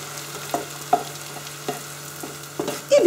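A batch of vegetables for leczo fries in a pan with a steady, moderate sizzle, broken by a few sharp clinks of a utensil against the pan and a louder stir near the end.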